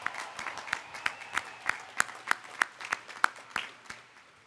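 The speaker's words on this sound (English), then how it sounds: "Graduates, please give your supporters a big round of applause." Applause at a Harvard Law School commencement ceremony, a soft crowd patter with sharp, evenly spaced claps standing out near the microphone, fading after a few seconds.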